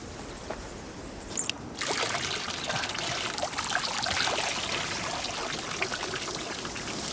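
Water trickles and pours in a thin, continuous stream, a steady close splashing hiss that starts after a brief quieter moment and carries on without voices.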